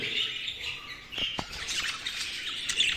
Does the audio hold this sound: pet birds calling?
yes